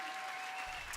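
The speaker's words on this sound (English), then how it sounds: "please give a big round of applause for our house band" An audience at a Canada Day celebration applauds the house band, a dense, steady patter of clapping that fills the whole short moment at moderate distance.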